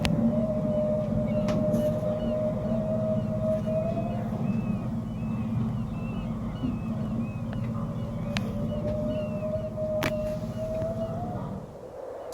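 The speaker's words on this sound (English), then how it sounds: "the sonar here on the boat is also picking up the song of the whale" Humpback whale song in the Kenai Fjords, Alaska, picked up by a boat's sonar: long sustained tonal moans and a series of rising chirps over a steady low engine-like rumble, with brief clicks.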